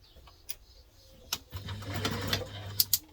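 A sewing machine top-stitching pressed-open seams on a crosspack bag starts after a few quiet taps and runs as a close, steady motor hum with small clicks.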